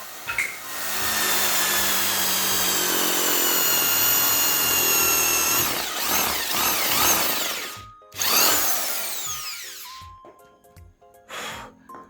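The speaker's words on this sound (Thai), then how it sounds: "เราก็เอาสว่าน มาเจาะลง" A power drill boring into pallet wood whines loudly and steadily for several seconds, bites through with a strained grinding, stops briefly, then revs again and winds down.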